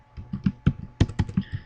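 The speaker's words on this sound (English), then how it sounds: "I'm clicking on OK button." Mouse clicks on a computer's OK button during a recovery procedure: a quick series of sharp, close clicks in uneven rhythm, about nine taps over under two seconds, with no talking.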